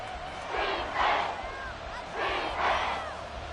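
Crowd cheering in Madden 24 at a football stadium ahead of a big third down, two swelling waves of roaring fans rising and fading over steady stadium ambience.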